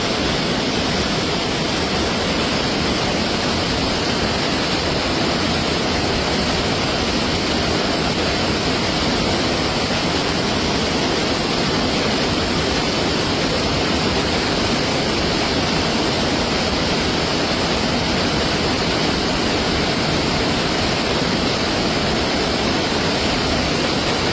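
Loud, constant rushing of water, a dense unbroken roar like a fast stream or cascade, with no voices.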